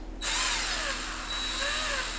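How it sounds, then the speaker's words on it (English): A handheld power drill whirring at its slowest speed setting, a steady close motor whine with a faint rising and falling pitch, running alone without talk for the whole short stretch. "I'm going to put my drill literally on the slowest setting it could possibly go"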